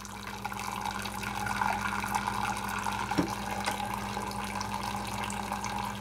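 Water running steadily through a Keurig coffee maker as it flushes leftover vinegar from its system, a continuous moderate trickling and pouring sound with a faint machine hum, close by and without talk.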